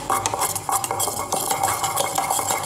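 Epoxy for a fiberglass bending bow is stirred briskly in a container, producing continuous close scraping and clinking with a busy, steady rhythm and no voices.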